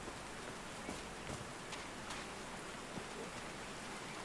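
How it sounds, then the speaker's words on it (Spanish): Steady rain patters and hisses in the video game Call of the Sea, a dense, soft wash with scattered individual drop ticks and no voices. "These drops of rain are so refreshing"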